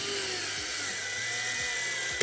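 Cordless power drill driving screws into a shoe cabinet, its clutch slipping: a faint, quiet whir broken by three brief ratcheting clicks of the clutch at steady intervals.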